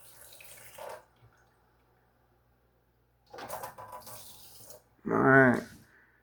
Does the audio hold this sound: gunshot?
no